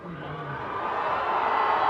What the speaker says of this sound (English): The crowd's so loud and there's so many people.